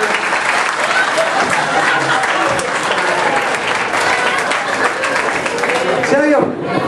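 A theater audience at a magic show in Courtenay applauds stage helpers, with dense, steady clapping filling the whole stretch at close range before it tapers off at the end.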